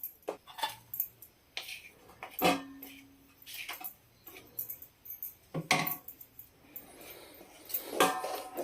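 Ragi flour dough being tipped into a wide steel basin in a village kitchen: sparse, sharp metallic clinks and scraping knocks, irregular and fairly close, with quiet gaps between them.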